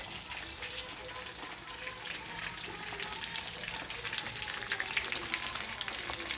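Steady crackling sizzle of tilapia frying in hot oil, dense and continuous throughout, with small pops rising near the end.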